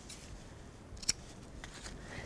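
Scissors snip jacket fabric during sewing, with one sharp, close cut standing out from a faint, quiet background and a few softer snips following.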